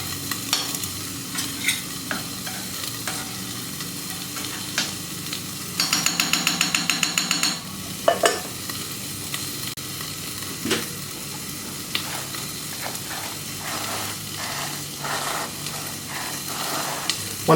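Cudighi sausage sizzles steadily on a hot Camp Chef FTG600 flat top grill, a soft continuous frying hiss broken by sharp scraping and tapping of a spatula, with a rapid metallic rattle in the middle.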